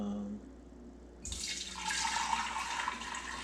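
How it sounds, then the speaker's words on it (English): Homemade kombucha tea poured from a container into a one-gallon jar, a steady liquid splash and gurgle starting partway through after quiet room tone and continuing to the end, close and fairly loud. "So we're going to go ahead and pour this into the jar."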